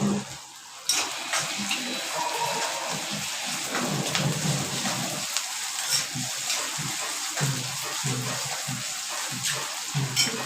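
Onions and curry leaves frying in a pan, a dense, continuous crackling sizzle close by that starts abruptly after a brief quieter moment and stays steady, with no talking.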